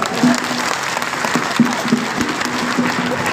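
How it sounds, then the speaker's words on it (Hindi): Audience at a political rally in Bhind, Madhya Pradesh, clapping together in a steady, dense burst of applause that fills the whole moment, loud and close, with no voices rising above it. "जरा ताली बजा लो एक बार"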